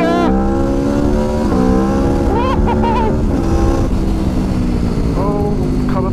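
A 2021 Aprilia RSV4 Factory sports bike accelerates hard away on an open road. The engine pitch climbs repeatedly through quick gear changes, loud and close, with a rushing wind roar underneath.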